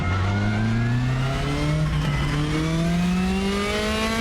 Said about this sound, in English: Okay, so now we're driving a DTM car from,